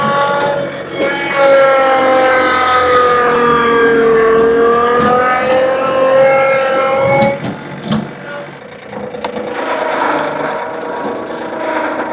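A loud tractor engine drones with a shifting, whining pitch that rises and falls, followed by clunks and rattling as it continues running nearby.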